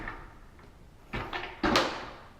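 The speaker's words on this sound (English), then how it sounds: "So bring your door further out, pull down on the door, and it'll come right out." A mirrored bypass closet door is lifted and pulled free of its track, giving a few close, sharp clunks and scraping rattles in quick succession after a quiet start.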